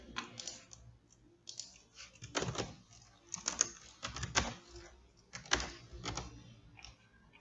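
A computer keyboard is typed on in short bursts of quick, crisp key clicks with pauses between them, close and fairly quiet.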